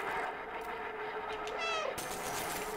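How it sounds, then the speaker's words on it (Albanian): A cat meows once in the video game Stray, a clear rising-and-falling mew, heard over a quiet steady ambient background hum in the game world. "Okej, kad probajem mjau."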